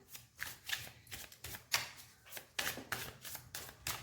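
Cards being handled during a tarot reading: a series of soft, crisp paper flicks and rustles in irregular bursts, close and fairly quiet, with no talking.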